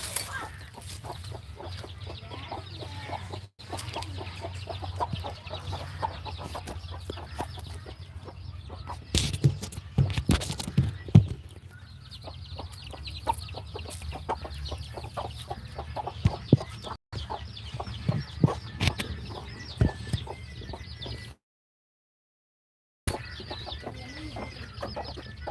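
Farm chickens and a rooster cluck steadily throughout, with occasional louder squawks and wing flaps in a raised poultry flock, close and continuous with a brief silent gap near the end.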